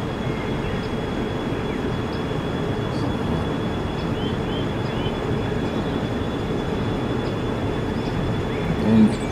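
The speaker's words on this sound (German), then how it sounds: "Jetzt müssen wir mit unserem ganzen Zug hier aufs Gleis raus mit unserem Kesselwagen." Freight train with a tank wagon pulling onto the track in Train Simulator 2020, a steady, loud rumble of rolling wheels and running gear with a faint high tone above it.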